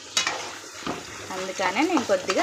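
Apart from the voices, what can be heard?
dried red chilies frying in tempering oil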